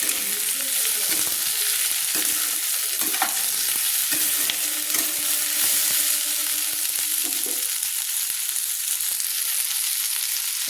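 Sliced tomatoes frying in a pan for a spicy Bengali mourola fish curry, stirred with steady scraping strokes over a constant loud sizzle, close up with no talking.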